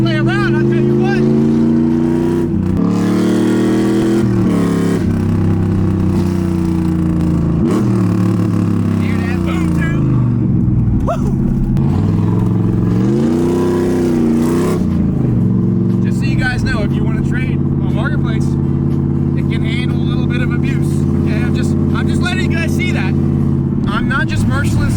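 Chevrolet LT1 V8 car driven hard, its loud engine note rising and falling through repeated revs and gear changes, close and continuous, with people talking over it.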